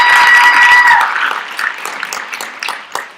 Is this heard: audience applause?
yes